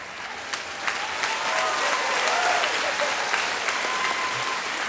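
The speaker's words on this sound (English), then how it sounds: "people applaud you" Steady applause from a crowd, dense clapping that holds at an even level throughout with no voices standing out.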